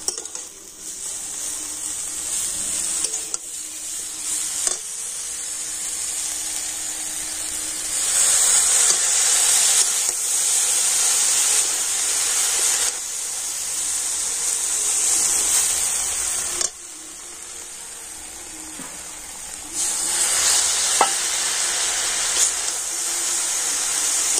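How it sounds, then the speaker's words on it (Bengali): Semai vermicelli cooking in milk over a low flame gives off a steady, moderately loud hiss and bubbling that swells and eases in long stretches, with occasional soft knocks of a spoon against the pan and no voices. "পুরো দুধটা দিয়ে দেবেন না, অল্প করে দিতে হবে আর নাড়তে থাকতে হবে।"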